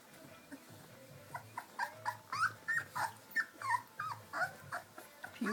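A dog whimpering close by in a rhythmic string of high, pleading whines and yips that grow steadier and slightly louder, with no voices over them.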